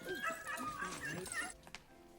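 Dogs in the 1999 film Crazy in Alabama whimper and yip in soft, high, wavering cries under a low hum, then fall quiet except for a few faint knocks.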